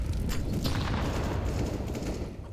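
A grenade blast during a Counter-Strike match: a loud, dense booming rumble that breaks in with sharp early cracks and holds for a couple of seconds, with no voices over it.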